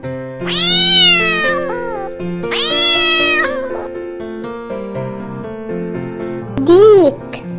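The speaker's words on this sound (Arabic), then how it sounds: "قطة" A cat meows twice in long, drawn-out cries, then gives a short higher yowl, loud and close over a gentle background melody.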